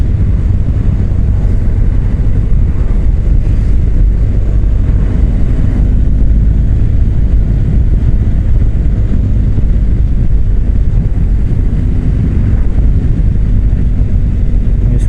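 A moped engine drones steadily while riding, a loud, continuous low rumble with heavy wind buffeting and no pauses.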